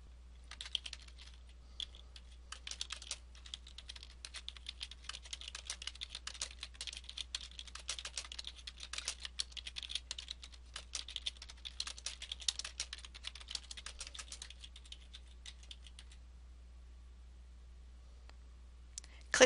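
Rapid, quiet clicking of computer keyboard keys during archival data entry continues almost steadily for about fifteen seconds, close and soft over a low background hum, then stops.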